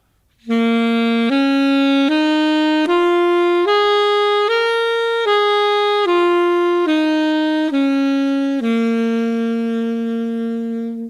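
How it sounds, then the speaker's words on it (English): A sustained melodic instrument plays a minor pentatonic scale, about ten steady notes rising then falling back down, clear and close. "This is the minor pentatonic scale."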